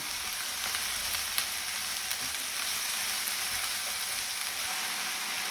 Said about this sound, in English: just throw in your veggies. And give them a stir.